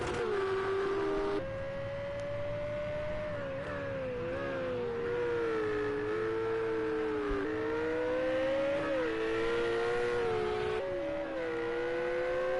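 A Ferrari race car engine at Brands Hatch in Project CARS 2 whines loudly and continuously, rising and dropping in pitch through repeated gear shifts and throttle changes.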